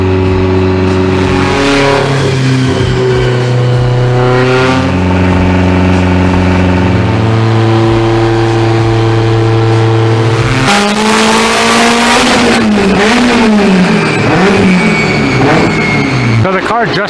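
A Subaru STI on a dyno, tuned to about 800 wheel horsepower on its stock engine, revs hard and loud through a sustained pull, its rising harmonic tone climbing steadily before the engine drops and winds down near the end.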